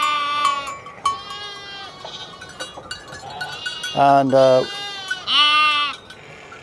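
Indigenous horned sheep bleat nearby, several loud wavering calls in a row, with a voice briefly heard among them.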